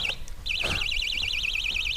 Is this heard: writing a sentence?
no